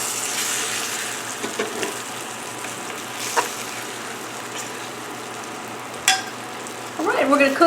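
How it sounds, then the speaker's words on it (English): Pork chops sizzle in a hot cast iron skillet, a steady broadband frying hiss running throughout with a few sharper crackles and a brief clatter near the end. "Oh, you see that sizzle?"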